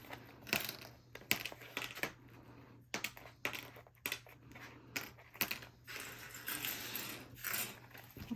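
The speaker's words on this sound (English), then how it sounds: "Now I'm going to unclip the gusset" Clips are released from the fabric gusset of a sewn bottle bag, giving a quick run of small sharp plastic clicks and light fumbling taps, close and fairly quiet.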